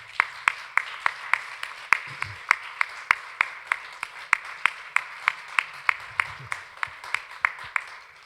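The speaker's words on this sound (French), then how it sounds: "Est-ce qu'on peut applaudir encore une fois Jésus?" A church congregation claps to the worship of Jesus in steady, evenly spaced claps, a brisk rhythmic beat that runs throughout at moderate volume, with faint low voices briefly underneath.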